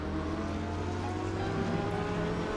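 A Porsche race car drives down the straight in a road race broadcast, its engine a steady loud drone with multiple strong harmonics that holds evenly throughout, no speech over it.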